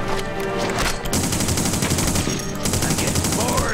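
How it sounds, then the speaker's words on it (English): Sustained rapid gunfire from The Punisher game, loud and continuous automatic shots hammering without pause for several seconds, with a brief dip in the middle. "I can shoot him all day"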